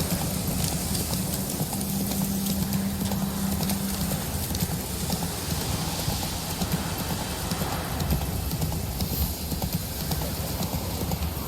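Horse hooves gallop in a steady, rapid clip-clop rhythm in The Witcher 3: Wild Hunt, loud and continuous over a dense rumbling game background.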